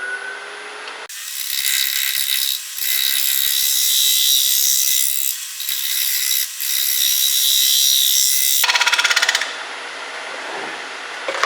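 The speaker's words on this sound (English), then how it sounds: "I come in here and hold this at about a 45. And that gives me a shear cut just as good as any skew or bowl gouge" A bowl gouge shear-cuts wood on a lathe for a dog face bowl, a loud steady scraping hiss with brief pauses, stopping near the end as the lathe spins on.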